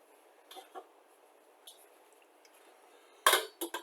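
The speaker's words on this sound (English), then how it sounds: "Lid goes on, and that simmers for an hour, maybe less." A metal lid set onto a pot of simmering soup, a few light clinks early on, then a louder clatter as it settles, followed by two smaller knocks in an otherwise quiet kitchen.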